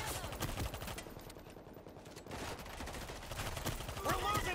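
Rapid automatic AK rifle fire in the zombie shooter World War Z, dense bursts of shots that break off briefly and then resume, loud and continuous with no talking.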